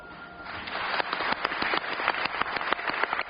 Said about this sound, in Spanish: Con este aplauso y la entrada de los representantes hondureños